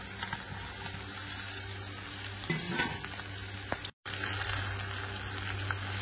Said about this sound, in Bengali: এবারে ভেজে রাখা মাছগুলো কিন্তু দিয়ে দেব